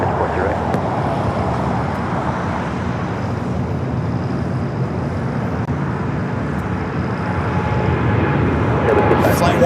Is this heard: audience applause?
no